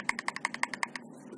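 Bumper buttons on a Nacon Revolution Pro game controller pressed in a quick, even run of about ten crisp plastic clicks, close and clear, with no talking.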